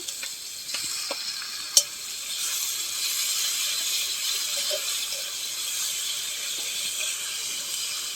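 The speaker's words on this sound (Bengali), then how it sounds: "রসুনটা দিয়ে দেবো, আদা বাটা," Garlic, ginger paste and spices sizzling in a hot pan for a fish and cabbage curry, a steady bright hiss throughout with a few sharp clicks of a utensil early on.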